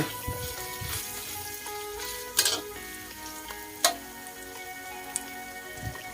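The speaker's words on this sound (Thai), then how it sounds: "พอผัดไปผัดมา ถ้าดูว่าพริกแกงจะแห้งเกินไปให้เติมน้ำมันพืช ลงไปนิดหน่อยค่ะ" Red curry paste sizzling and frying in oil in a pan while being stir-fried, with a steady crackle and a few sharp scraping clicks of the spatula, close and without talk.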